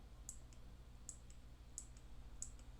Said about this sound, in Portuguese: Tá vendo? Escutou o clique?